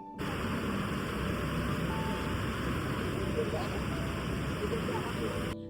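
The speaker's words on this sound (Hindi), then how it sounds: "सरस्वती नदी की आवाज़ इतनी तेज़ थी" The Saraswati river rushes loudly near its source at Mana Village, producing a dense, steady roar of water that stays constant from start to finish.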